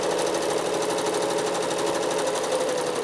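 A regular home sewing machine runs continuously while machine quilting a big quilt, a loud, steady, rapid mechanical whirr with no pauses or talk.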